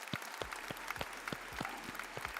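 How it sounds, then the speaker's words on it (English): Rhythmic hand clapping from the hosts of a video game news show reacting to the PlayStation Showcase 2021: a steady run of about eight sharp, evenly spaced claps, close but fairly quiet. "As we do, we like to clap it out."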